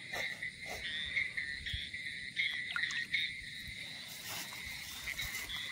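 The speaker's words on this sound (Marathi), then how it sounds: "रात्रीचे रातकिडे भरपूर आवाज करतायत." Crickets trill steadily at night in a wet rural field after the first rain, a faint, continuous high chirring with a few louder bursts and no voices.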